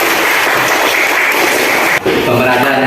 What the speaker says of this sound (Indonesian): Mantap ya, tepuk tangan.